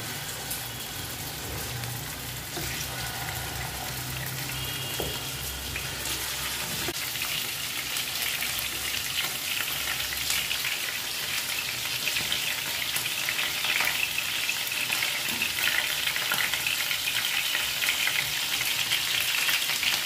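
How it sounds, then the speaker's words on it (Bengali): Chicken pieces frying in hot oil for a chicken roast, a steady dense sizzle and crackle that runs the whole way at an even, moderately loud level with no talking. "এবার এক এক করে চিকেনের পিসগুলোকে আমি তেলের মধ্যে দিয়ে দেব।"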